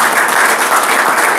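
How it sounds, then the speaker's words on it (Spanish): Audience applause at a political speech in Spanish about fighting corruption, a dense steady roar of many hands clapping throughout, close and loud with no speech over it. "Un aplauso a la lucha contra la corrupción y la impunidad."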